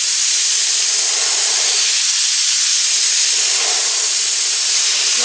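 Paint spray gun laying a light coat on a car panel, one continuous loud, close airy hiss that holds steady without pause.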